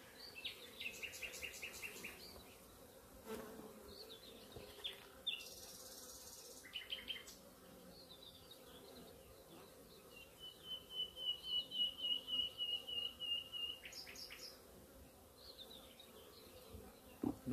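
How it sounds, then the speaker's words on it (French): Steady insect buzzing of many honey bees from an aggressive hive, rising and falling in short swells, with occasional higher whines passing close by; no voices. "Donc là j'ai pris à peu près 200 abeilles."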